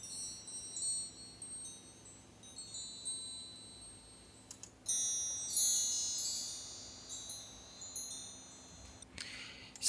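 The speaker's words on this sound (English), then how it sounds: "the final group in this instrument pack is the metal wind chimes" Faint, shimmering metallic chimes tinkle in scattered bursts, swelling briefly in the middle and again near the end over a quiet background hum.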